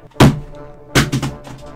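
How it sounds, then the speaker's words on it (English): Two hard plastic thunks close by, the second followed by a short clattering rattle, like a game controller smacked against a surface. "that's the sound of a controller hitting something."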